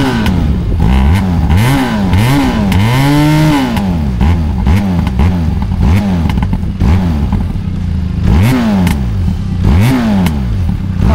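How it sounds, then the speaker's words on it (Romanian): A Benelli TRK-502 X adventure motorcycle with its stock factory exhaust idles loudly and close, its parallel-twin engine revved repeatedly in rising and falling swells with a deep, throaty exhaust note. "Și acum, haide să porim motorul."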